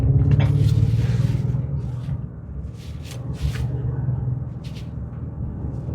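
A 2026 Genesis GV70 SUV drives on the road in sport mode, its engine a steady low rumble with road noise throughout, swelling slightly at the start and holding an even drone, no talking.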